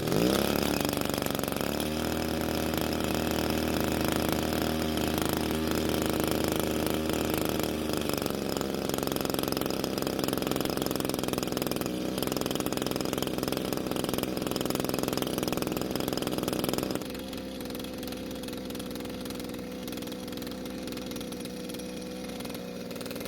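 A Stihl FS81 string trimmer engine with a faulty carburetor runs at a loud, steady idle that holds for a long stretch, then drops to a lower, quieter drone as the speed falls, with no talk.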